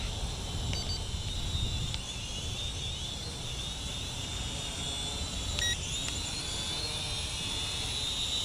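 CheerWing CW4 quadcopter drone hovering and flying nearby, a steady high-pitched propeller whine with a few faint electronic beeps, no talk over it.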